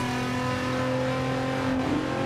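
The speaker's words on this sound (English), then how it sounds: "We're going to go ahead and give it a little bit of gas, which by I mean full throttle." A slammed 400-horsepower Nissan 400Z (Z34) in a racing video game roars at full throttle on a traffic-filled server, a loud, steady, tonal engine drone that climbs slightly near the end.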